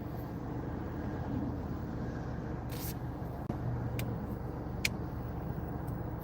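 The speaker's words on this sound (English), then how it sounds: "I have to wait for traffic to get out." Steady low road rumble with cars going by on a street near a parked Ford, the noise continuous and fairly close, with a few brief clicks and no talking.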